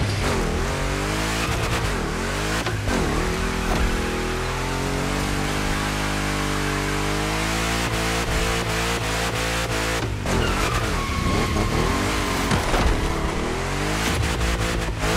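A big-block engine revs hard in The Crew Motorfest, loud and continuous with a deep, harmonic-rich drone across the whole span. Pitch swells and dips repeatedly, and brief breaks in the roar fall near the middle and toward the end.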